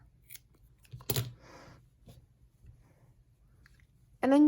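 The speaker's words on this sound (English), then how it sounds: "I'm just going to pull gently on each one. And then I'm going to snip it" Scissors snip the yarn tails of a crocheted daisy hat in one short, close cut, surrounded by faint handling rustles, followed by a brief burst of voice at the end.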